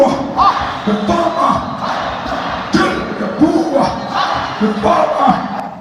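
A crowd at a political rally chanting in rhythmic shouted phrases and cheering, loud and close, with repeated surges of massed voices.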